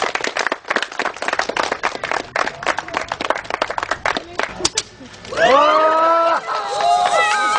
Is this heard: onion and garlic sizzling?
no